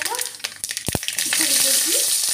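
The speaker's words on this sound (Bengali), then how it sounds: "এই গোটা সরষে ছিটকে উঠলে দিয়ে দেবো ছোট ছোট করে কেটে রাখা" Whole mustard seeds crackling in hot oil, a few sharp pops and spoon knocks giving way to a dense, steady sizzle that grows louder, close up.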